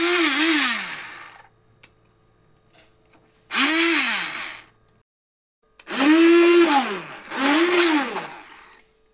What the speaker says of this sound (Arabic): طحنت دابا البنان طحنته مع كاكاو مع قهوه سريعه